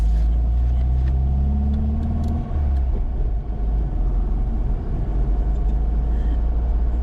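A classic car pulls away, its engine note climbing briefly before settling into a steady low rumble that carries on over constant road and wind noise.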